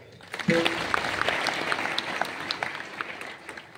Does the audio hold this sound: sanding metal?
no